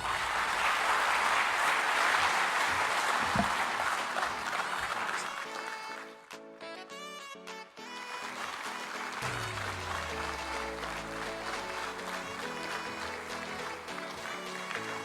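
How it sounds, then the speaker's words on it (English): An audience at a presidential speech on African economic transformation and trade breaks into sustained applause, a dense wash of clapping that dips briefly midway and then continues, with faint voices and some music underneath. "another round of applause for His Excellency President John Dramani Mahama"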